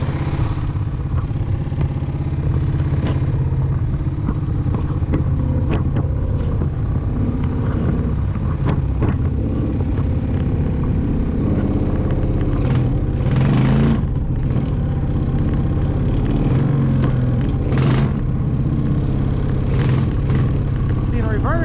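A gas-powered Power Wheels ride-on with a slipping clutch runs with a steady, loud engine drone through the whole stretch, with some wind buffeting and a few sharper bursts near the end.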